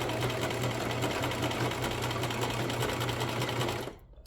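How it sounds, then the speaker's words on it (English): A sewing machine runs a steady back stitch through scrap fabric, a continuous close whirring hum that stops abruptly near the end. "Do a back stitch."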